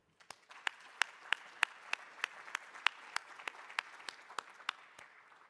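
Sparse applause from a small conference audience at an ALEC annual meeting session. A few distinct, sharp claps ring out at a slow, fairly even pace over a quiet room, and the sound is faint and distant.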